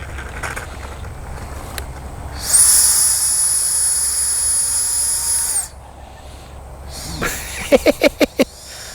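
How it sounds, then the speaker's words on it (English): A small jet turbine on an FGFRC Aeroscout RC plane whines with a high, steady hiss for a few seconds, then cuts off, followed by a series of quick pulsing bursts. "the sound of an AEROSCOUT with a jet engine on it"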